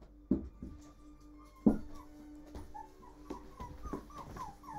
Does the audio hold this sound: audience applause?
no